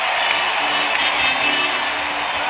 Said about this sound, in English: Standing ovation from this crowd.